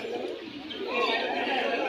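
Pigeons murmur and coo among the hubbub of a busy pigeon market in Mirpur, Dhaka, faint calls under nearby chatter and talking voices.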